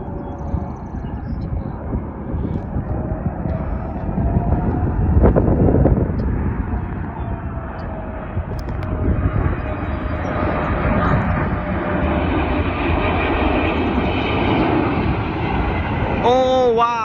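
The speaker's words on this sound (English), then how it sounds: "Let's just listen to those GE90 engines." Boeing 777-300ER with GE90 jet engines on landing approach, a sustained loud roar building and broadening as it passes close overhead, with people talking nearby over it.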